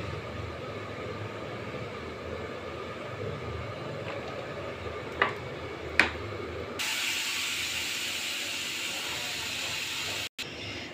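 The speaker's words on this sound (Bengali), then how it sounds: "এবার ফোড়ন দেব। দেব একটু সরিষার তেল" Mustard seeds and dry red chillies tempering in hot mustard oil give a steady hiss that suddenly swells into a brighter, louder sizzle partway through, with a couple of faint clicks.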